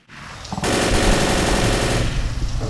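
Rapid automatic gunfire from bot Zoey shooting a zombie in Left 4 Dead, a loud, dense burst of shots that starts abruptly and holds for about two seconds before tailing off.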